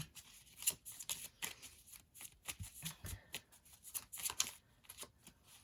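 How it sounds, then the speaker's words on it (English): Quick bursts of riffling and snapping cards repeat in irregular clusters, close and fairly quiet, with no talking. "Just get a good shuffle."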